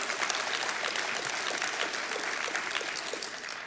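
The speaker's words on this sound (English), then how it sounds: "Now, I'm glad you're applauding" Audience applause after a talk on the long-term impact of telecommunications, a steady, dense wash of clapping from a large crowd that fills the whole moment at an even level without fading.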